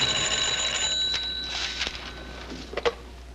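An old-fashioned telephone bell rings in a rapid metallic trill that fades out, followed by a couple of soft clicks like the receiver being picked up.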